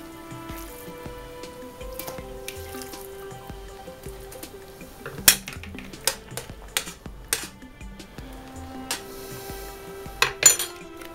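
Pork pieces for Chinese-style caramel pork are dropped a little at a time into a pot over the lowest flame and stirred, giving soft tapping and scattered sharp metallic clinks against a quiet background.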